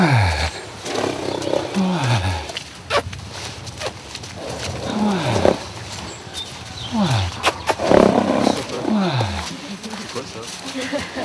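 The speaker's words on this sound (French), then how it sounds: "Donc là, c'est un ronflement." A horse being saddled snorts several times in short, rough bursts, with a person talking over it throughout.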